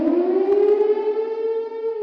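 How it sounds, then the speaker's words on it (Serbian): An air raid warning siren wails in one steady, slowly rising tone with rich harmonics, loud and sustained throughout with no talk. "Prva sirena za vazdušnu opasnost oglasila se te srede 24. marta."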